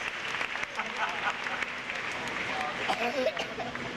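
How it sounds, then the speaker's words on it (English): Audience applause at a Disney theme park stunt show in 1993, a dense steady wash of clapping from a large crowd lasting throughout, with a faint voice over it near the end. "How about a nice round of applause for Emily Lester and these great audience extras."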